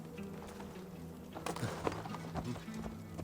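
Horse hooves clopping in the Viking-era game Assassin's Creed Valhalla, a few irregular thuds and clip-clops building midway, moderately close, with quiet background game ambience and a brief low voice.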